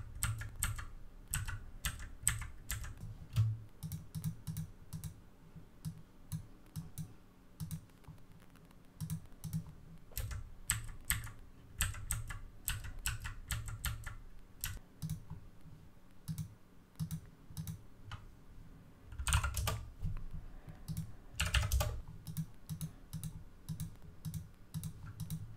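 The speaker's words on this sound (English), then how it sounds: "I'm just going to use the arrow keys to see if I can make this any better." Arrow keys on a computer keyboard are tapped over and over during photo editing, giving a long irregular series of close, light clicks, sometimes single and sometimes in quick runs, with no voices.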